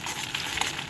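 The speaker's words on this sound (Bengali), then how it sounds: "ডিমটা বেশিক্ষণ ভাজবো না" An egg frying in a pan gives off a brief, steady crackling sizzle, close and fairly loud, with small pops scattered through it.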